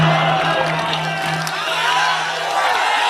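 A seminar audience in Jaipur bursts into loud, sustained applause mixed with cheering and whoops, a dense wall of clapping that stays strong throughout.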